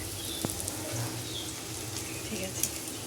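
Bitter gourd leaf fritters fry in hot oil with a soft, steady sizzle and a few faint pops, close by and alone.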